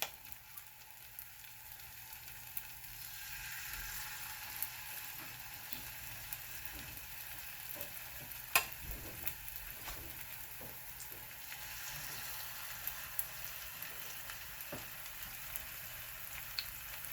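Pumpkin fritters fry gently in oil over low heat, giving a faint, steady sizzle with scattered soft pops and crackles throughout.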